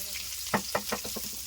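Onions frying in well-heated oil for a dry fish curry, a steady sizzle broken by several distinct scraping stirs spaced about every fifth of a second, close and moderately loud with no talking.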